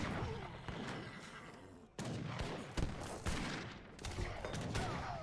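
Gurkha units firing volleys at Cossacks during an Age of Empires III match, with repeated overlapping musket-style gunfire and booms forming a steady, dense battle din.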